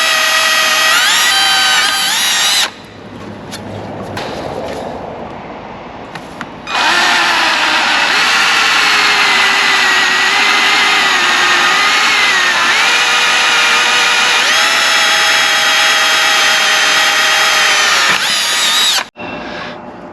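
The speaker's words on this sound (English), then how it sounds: "I'm going to drill the very first hole, the pilot bit, trying to make it straight as possible." Loud close power drill boring a pilot hole for a Stingray hydrofoil on an outboard motor, a brief whine, then a longer sustained drilling run whose pitch wavers under load before stopping abruptly.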